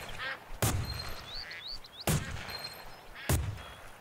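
Duck quacks in the Duck Dynasty video game duck hunt, with short calls and a few wing or call sounds between three sharp, loud gunshot-like bursts spaced about a second apart, with no talk.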